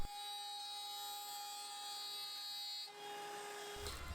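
A power tool cuts oak stretchers and feet for a small apothecary chest, a steady tonal whine holding evenly for about three seconds before the pitch shifts and it winds down.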